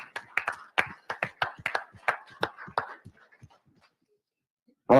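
A small audience at a morning safety meeting clapping for the breakfast providers, a run of distinct, separate hand claps that thins out and stops, followed by silence and a brief sound at the very end.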